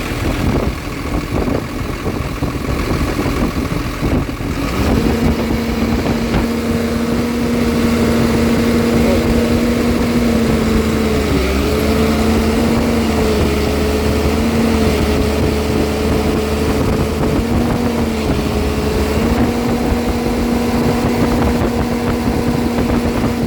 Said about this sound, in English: We put some pressure on engine.